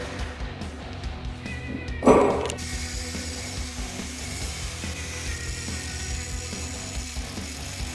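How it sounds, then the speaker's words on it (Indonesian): An angle grinder works a metal connector in a manufacturing workshop. A steady whining drone runs throughout, with a loud, harsh grinding burst early on, and no voices. "Setelah selesai melakukan proses gerinda pada bagian konektor yang kedua"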